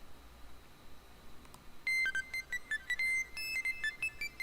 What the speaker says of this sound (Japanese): When I try to put my phone in my bag, it starts to ring again